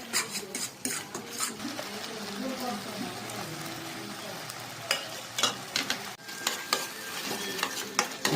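Tomato gojju masala being stirred in a frying pan: a spatula scrapes and knocks through the thick mixture in uneven strokes over a soft, steady sizzle, with a few sharper scrapes toward the end.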